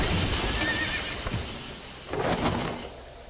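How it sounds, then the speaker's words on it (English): A horse neighs in a Nintendo video game trailer, a bright whinny rising over a busy music-and-effects bed, with a louder burst of game sound near the end. "Look at the horse! We're back to horses, yes!"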